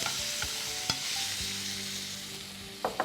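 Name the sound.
tomatoes frying and being stirred in a pan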